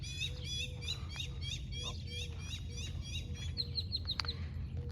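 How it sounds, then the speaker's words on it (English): Several small birds chirp and tweet in a home vegetable garden bed planted with Swiss chard and kale, a steady layer of quick high calls over a low outdoor rumble, moderately near with no talking. "And we have lots of birds here."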